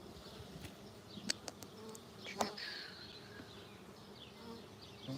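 Honeybees buzzing around an open hive on a small farm, a steady close insect drone with brief louder fly-bys and a couple of sharp clicks.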